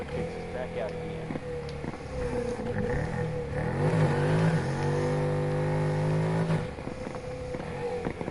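A 1965 Ford Mustang engine revs and accelerates in Need for Speed Heat during a street race, a steady loud drone that climbs in pitch through gear changes, with someone talking over it.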